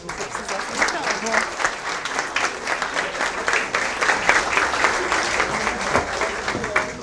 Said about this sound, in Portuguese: vamos receber com aplauso Mary Del Priore